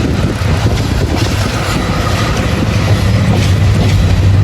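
A train near Dhaka's airport railway station is heard from its roof as a loud, steady roar of wheels and rushing wind that fills the whole clip.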